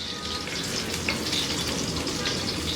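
Spring onion fries in a pan over high heat for Chinese-style egg and tomato, producing a loud, dense, continuous sizzle that stays even across the short stretch.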